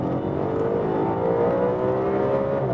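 An Audi RS5 with a naturally aspirated V8, sport mode engaged and exhaust valves open, revs steadily with a rising, sustained engine drone and throaty exhaust tone heard from inside the car, no talking.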